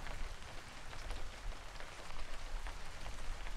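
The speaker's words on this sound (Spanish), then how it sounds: "La lluvia es deliciosa." Steady rain patters densely on a surface, an even, continuous hiss of drops with no voices.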